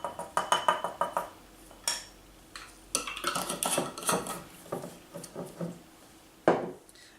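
A small spoon scoops and clinks against a bowl while powder for a Hesh Skin Life face mask is measured out, close, crisp taps and scrapes in quick irregular bursts, with no talking.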